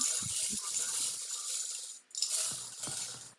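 Numbered keno balls are shuffled around for a game-show draw, giving quick hard clattering knocks in short bursts, a pause, then another run of rattling clicks.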